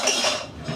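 A frying pan and metal utensils clattering in a home kitchen while galette aux herbes is cooked, a brief close burst of metallic clanks and scraping.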